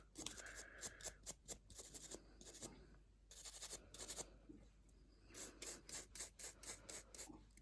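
Rapid rasping strokes of a file debulking acrylic nails during a fill, close and dry, coming in short rhythmic bursts with brief pauses between them.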